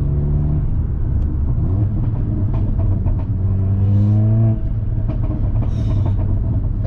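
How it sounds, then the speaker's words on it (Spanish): A Mercedes A45 AMG Edition One's engine rumbles low and steady at slow speed, with a few faint exhaust pops and crackles breaking through the deep burble. "Petardeo bonito, ¿eh?"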